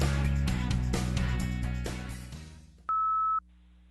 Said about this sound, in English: Now it's your turn to speak at the beep.